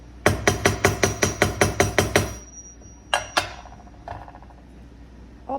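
Hammer blows on bracelet wire, about eleven quick sharp metallic taps in an even rhythm, then a pause and a couple of louder strikes, close and clear with no voices.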